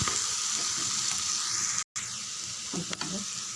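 Chili powder and garam masala sizzle and fry in a pan for a potato gravy, a loud, continuous crackling hiss with a short break and a few stirring scrapes near the end.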